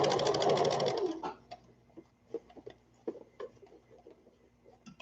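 A sewing machine stitches a toddler peasant dress in a fast, loud, even mechanical whir for about a second, then stops, leaving faint clicks and handling taps of fabric.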